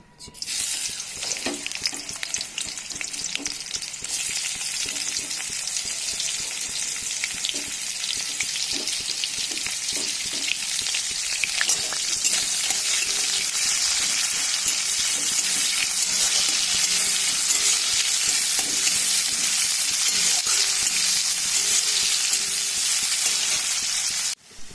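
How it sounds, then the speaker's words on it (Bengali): Onions dropped into hot mustard oil in a wok, a loud, dense crackling sizzle that bursts in and holds steady for over twenty seconds, with faint stirring clicks beneath. "তেলটা ভালো মতন গরম হয়ে গেছে দিয়ে দিচ্ছি আমি এর মধ্যে পেঁয়াজ"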